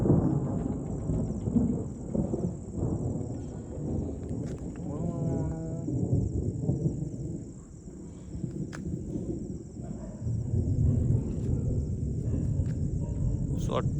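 Low rumbling thunder rolls through a village thunderstorm with rain, along with a steady high insect-like drone, a cow lowing in the middle, and people talking throughout.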